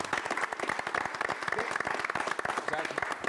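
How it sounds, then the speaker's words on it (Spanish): A studio audience applauds during a TV program, with a brisk, dense clatter of hands running throughout. Speech sits partly over the clapping, and the whole thing comes across fairly faint. "así que un aplauso para ellos."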